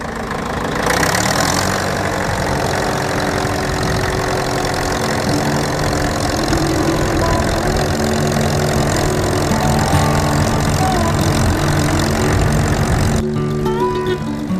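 An all-wheel drive land drainage tractor engine runs steadily at close range, a loud continuous low rumble with knocking undertones, cut off sharply near the end.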